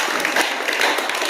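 An audience clapping for themselves at a talk, a dense brief burst of applause heard close and fairly loud.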